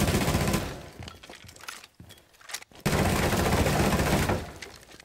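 Rapid gunfire in Rainbow Six Siege shoots holes through walls, loud close bursts of shots with a short gap, then a sustained volley of firing and debris.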